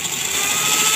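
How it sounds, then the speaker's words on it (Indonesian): A cordless battery drill whines steadily while boring, a high, sustained motor pitch close up and alone for about a second. "yang saya gunakan di sini bor cordless"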